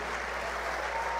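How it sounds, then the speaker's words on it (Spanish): A church congregation applauds during a service, a brief, even wash of many hands clapping at a distance with no voices above it. "Un fuerte aplauso al Señor."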